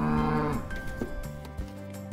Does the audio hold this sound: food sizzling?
no